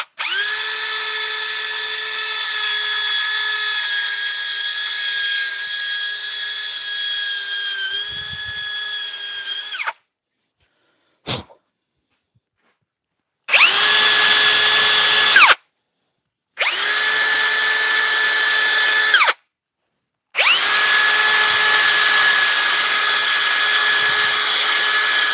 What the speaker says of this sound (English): Let's sand the rest of this out here.